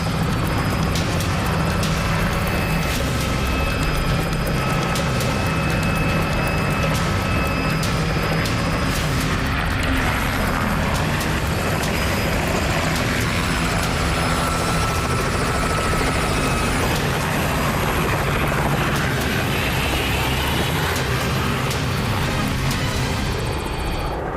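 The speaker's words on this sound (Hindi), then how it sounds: "हेलीकॉप्टर जा चुका है।" A loud helicopter roars throughout, its rotor thudding steadily and close by with the engine whining, never fading away.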